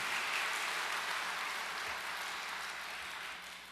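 A church congregation applauds the choir, a dense, steady wash of clapping that fills the room and gradually tapers off toward the end.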